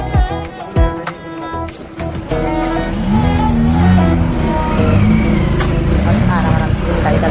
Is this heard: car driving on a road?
yes